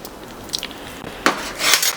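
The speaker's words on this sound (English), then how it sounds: "Give it a good mix around." Chicken being mixed in buttermilk in a bowl gives a few light, close clinks and scrapes, scattered and brief, with a busier clatter near the end.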